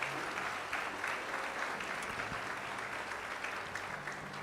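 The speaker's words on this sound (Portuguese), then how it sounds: "Vamos aplaudir ao Senhor Jesus pela vida dela." A church congregation applauds continuously, a dense, steady clatter of many hands that fills the room at moderate loudness.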